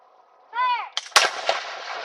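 Cannon firing at a Fort Erie gun demonstration. A short whistle-like tone comes first, then a sharp, loud blast that rolls off into a long fading echo. No one speaks.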